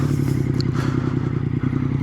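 A 2021 Yamaha MT-09 naked motorcycle rides along a road, its engine giving a steady, throbbing low drone that stays loud and close throughout, mixed with wind and road roar.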